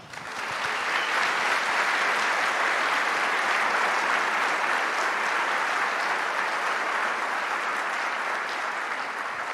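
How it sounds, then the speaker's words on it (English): A university symposium audience applauds its panelists loudly and steadily, the clapping swelling in after a second and holding for several seconds with no talk. "let's give our panelists a round of applause."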